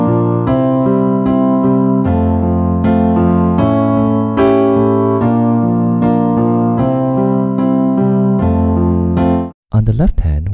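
Solo piano plays the chorus of a song as an accompaniment in a female vocal range: steady sustained chords with a low bass line, loud and close, ending in a brief burst of noise.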